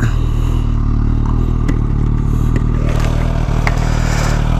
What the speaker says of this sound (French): Je vais laisser le moteur allumé.